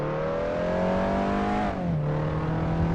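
Race cars in Assetto Corsa roaring off the start at a Scottish track, a loud steady engine whine climbing in pitch, dipping briefly as a gear shifts, then rising again.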